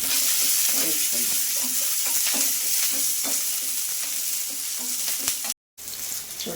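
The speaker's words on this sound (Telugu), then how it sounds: "పచ్చిమిర్చి బాగా వేగాలండి" Green chillies fry in a pan with a continuous crackling sizzle, broken by stirring scrapes and pops. The sound cuts out briefly near the end, then resumes.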